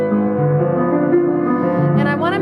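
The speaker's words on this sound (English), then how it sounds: "I'm in Grieg Piano Concerto, measure 23 of the first movement." Piano plays a dense, sustained passage from the first movement of Grieg's Piano Concerto with rich layered chords and a singing melody over bass, loud and close throughout.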